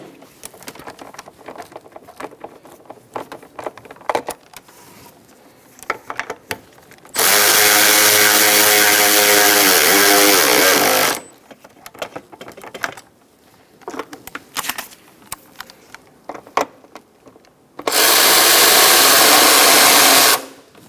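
Two long whirring bursts of a power tool drive bolts while a starter is fitted to a 2002–2006 Honda CR-V, with scattered clinks and handling noises between them, close up.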